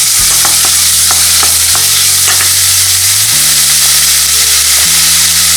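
Onions sautéing in butter in a pan, a loud steady sizzle with stirring scrapes and clinks layered over a constant hum.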